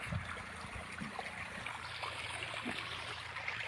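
Water drains steadily out of a pipe being emptied, a faint continuous trickling and rushing that holds even throughout, with no voices.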